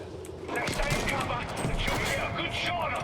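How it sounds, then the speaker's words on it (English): Rifle grenades and gunfire in the Battlefield V video game, a dense burst of overlapping explosive shots and weapon fire that runs steadily throughout, loud and close, with a voice underneath. "Let's use me rifle grenades."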